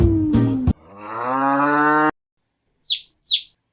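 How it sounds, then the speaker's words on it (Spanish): A cow gives one long, loud, drawn-out moo that stops abruptly, followed by two quick high chirps after a moment of silence. "La vaca Lola tiene cabeza y tiene cola y hace mu."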